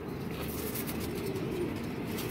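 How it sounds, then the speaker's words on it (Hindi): A pigeon coos close by in a loft, a continuous low burbling without pause and no voices. "इसके बाद उसको ये कबूतर आ गया"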